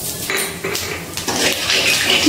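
Whole spices (cinnamon, star anise, cardamom, cloves, coriander and cumin seeds) stirred in hot oil in a pan for egg biryani, with a continuous sizzle and metal spoon scraping, loud and close.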